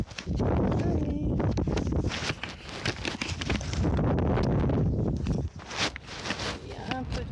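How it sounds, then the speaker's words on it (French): Wind gusts steadily across a mountain trail near a pass with lakes, a broad continuous rush buffeting the microphone for most of the stretch, with crunching steps on the path and brief breathing or murmurs beneath it. "Il y a un peu de vent, on va dire."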